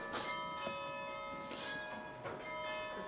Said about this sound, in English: Let's wait for the bells.